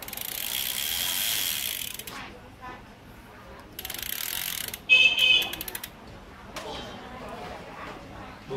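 Rapid ratchet clicking from the freewheel hub of a carbon road bicycle, heard in fairly loud bursts that start and stop, close by, with someone speaking between them.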